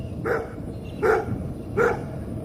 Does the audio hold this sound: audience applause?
no